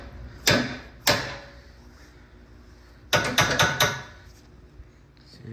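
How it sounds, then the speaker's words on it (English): A bent radiator support bracket on a Mazdaspeed3 is hammered back into shape: two separate sharp metallic strikes, a pause, then a quick burst of four close blows, loud and near in a quiet garage. "I'm just gonna hammer it back into place before I install it in."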